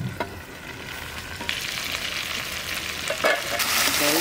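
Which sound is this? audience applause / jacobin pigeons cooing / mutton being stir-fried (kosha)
mutton being stir-fried (kosha)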